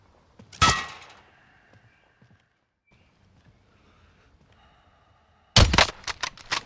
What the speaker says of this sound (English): Shooting the heli.